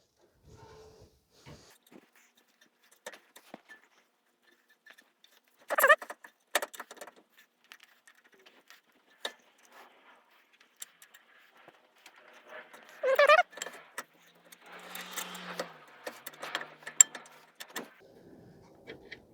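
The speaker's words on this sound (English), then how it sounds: "So we're going to install the caliper now." A brake caliper is fitted onto the rear of a 2016 Ford F-150, heard as scattered close metallic clunks, scrapes and rattles with a few louder knocks and a short hiss, separated by near silence.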